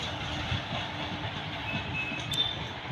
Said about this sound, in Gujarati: ગાડી આવી રહી છે અત્યારે